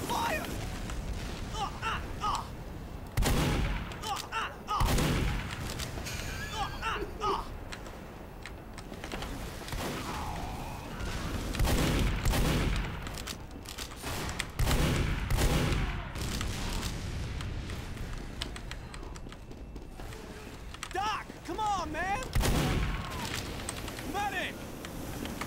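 Flare gun shots in Team Fortress 2 sound as several sharp bursts scattered among clicky keyboard typing, with a person talking over parts of the game audio.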